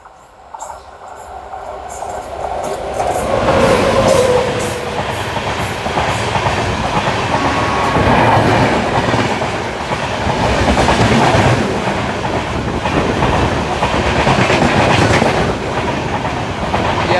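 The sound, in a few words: Bhagat Ki Kothi–Kacheguda Express train passing at crossing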